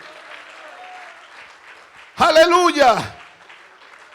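A church congregation breaks into a short burst of applause, loud and close, lasting under a second, with a voice calling out over the clapping and quiet talk before and after.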